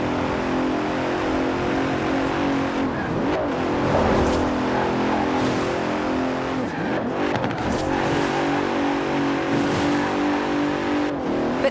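A Bentley Continental in Forza Horizon 4 revs hard and continuously, its engine note climbing and dipping through gear changes, loud and close, with a hint of tyre squeal.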